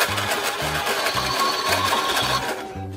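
Toy washing machine from a children's laundry room playset, running with a steady mechanical whir and a repeating rhythmic thump about every half second, close and fairly loud throughout.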